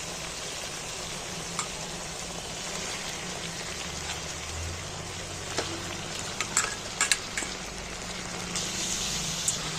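Chicken pieces fry in hot spiced oil for a curry, giving a steady, dense sizzle with scattered sharp pops and crackles, close by and without talk.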